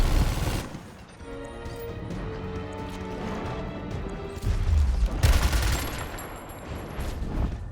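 Gunfire in the video game Gears Tactics as a squad unloads every weapon on a huge crane: bursts of rapid shots and heavy impacts with crashing booms, loud and sustained, with a game tone ringing between volleys.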